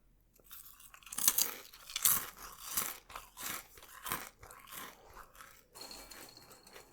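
Star Wars Goldfish crackers are eaten close up, with loud, crisp crunching bites followed by rhythmic chewing in a quiet room and no talking.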